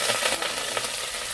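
Onion and curry leaves frying in hot oil for Kokni masala daal give a steady, close sizzle that runs evenly throughout with no talking.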